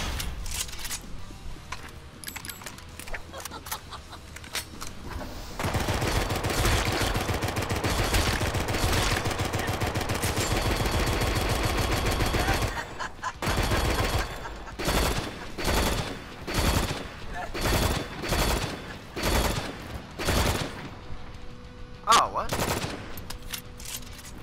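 Gunfire in the video game Drawn to Death: long sustained bursts of automatic fire, then a run of separate rapid volleys with short gaps, close and fairly loud.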